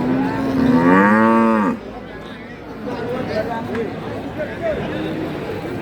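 Cattle at the Jatirogo livestock market, with a pregnant cow among those for sale: one loud, close moo in the first seconds, then a general murmur of crowd chatter and market noise.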